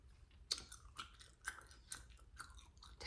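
Gum is chewed close up in a soft, intimate setting, with wet smacking bites repeating every half second or so, crisp and near against a quiet background.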